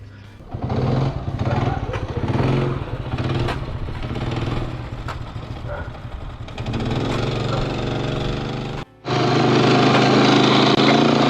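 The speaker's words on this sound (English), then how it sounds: "we push started it in second gear" A 50cc Honda Cub motorcycle, push-started in second gear and ridden, its small single-cylinder engine buzzing steadily and close, with a brief cut-out before revving up again loudly.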